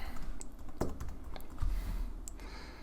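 Quiet typing on a computer keyboard, a few scattered key clicks with short pauses, close and alone with no talking.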